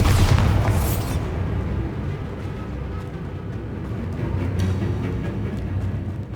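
A Bombarda blasting spell goes off in Hogwarts Legacy: a loud, close boom opens, then a heavy rumble with scattered crackles carries on for several seconds.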